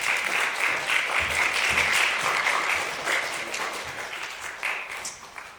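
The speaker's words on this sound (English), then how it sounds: "Can we all just give him a huge round of applause as he comes in?" A university lecture audience applauds steadily, dense clapping that holds strong and then slowly tapers off.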